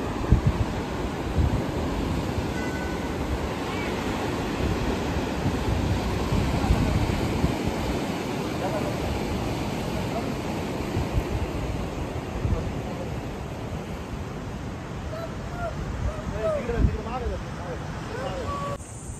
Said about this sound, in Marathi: फेसाळ असा समुद्र